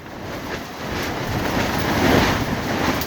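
Strong, torrential wind gusting through Beacon Hill Park, a steady roaring rush that buffets the microphone and grows slightly louder over three seconds, with no voices.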